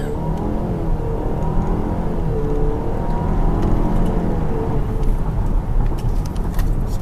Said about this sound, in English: this is a normal launch, no paddle shifters, and we're not in sport mode, and we're only on front wheel drive